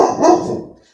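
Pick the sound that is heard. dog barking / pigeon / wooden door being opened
dog barking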